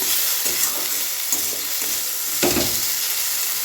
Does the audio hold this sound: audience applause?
no